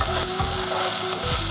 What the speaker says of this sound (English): Let them simmer for a minute so that they become tender and soft.